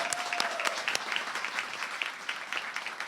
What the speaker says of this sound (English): Can we give them a round of applause really quick?